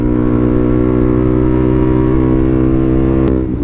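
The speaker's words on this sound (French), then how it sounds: "Ah, ça c'est une KTM Adventure, ça c'est sûr." A KTM Adventure motorcycle engine drones loudly and steadily close by, a sustained rich rumble that holds level before easing off near the end.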